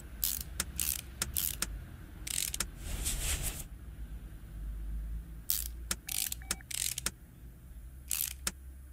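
Metallic clicks, ratcheting and clunks from fitting a drive shaft on a Cadillac in the video game Car Mechanic Simulator 2018, coming in quick separate bursts with short gaps and no talking over them.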